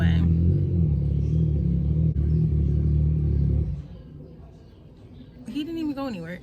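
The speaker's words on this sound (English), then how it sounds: "They want to ride their motorcycles." A neighbour's motorcycle engine idles nearby with a loud, steady low rumble for almost four seconds, then drops away to quiet background noise.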